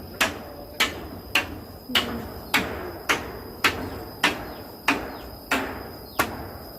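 Nails being hammered while a small wooden hut is taken apart, about a dozen sharp, ringing metallic strikes in an even, steady rhythm, fairly close, with no talking.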